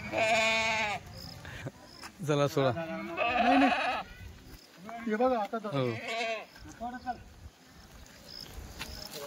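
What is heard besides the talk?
goats bleating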